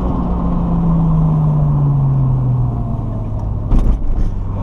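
Engine of a 1989 Toyota Supra street car pulls smoothly under way, its low drone sliding gradually down in pitch, followed by a brief rattly knock near the end, loud and close with no talk.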